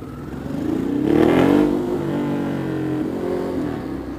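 A Ducati Hyperstrada motorcycle engine revs up close, the throttle swelling to a rough peak and then settling into a steady growling idle.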